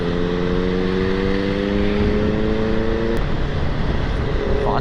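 Superbike cruising on a highway in fifth gear, a steady loud engine drone with sustained harmonic tones throughout, shifting slightly partway through, with no talking.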